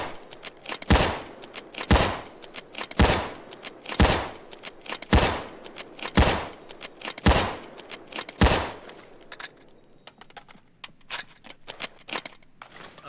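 An MSR (Rattlesnake) bolt-action sniper rifle in the game Payday 2 fires eight loud, sharp shots at an even pace of about one per second. Faint clicks of bolt cycling follow, then the firing stops and quiet mechanical handling remains.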